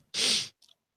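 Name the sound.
sneeze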